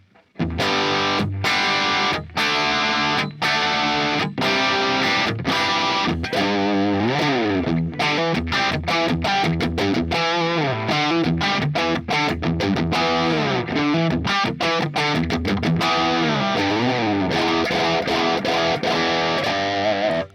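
Heavily distorted electric guitar through a Line 6 Helix amp modeler plays dense, compressed riffs and chords continuously at a loud, steady level, with no talking.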